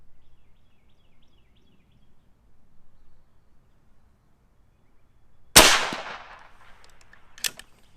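A single sharp crack from a Dragon Claw PCP air rifle firing, loud and close, with a ringing decay and a brief metallic echo soon after, following quiet room tone.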